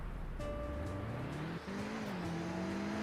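Video game car with a turbo or supercharger accelerating in Greenville, a steady engine drone rising in pitch through the gears with one brief shift dip, continuous and fairly loud with no talk.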